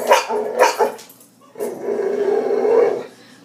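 Boxer dog growling and barking up close: a few quick rough bursts, a short pause, then a long sustained throaty growl.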